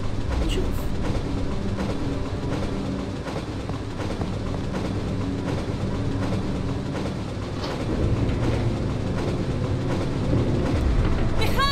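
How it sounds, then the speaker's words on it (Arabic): A train in the game Resident Evil 3 runs with a continuous rolling rumble and rhythmic clickety-clack of wheels over rails, holding a steady, fairly loud level throughout. "شغل القطار زي ما انت شايف"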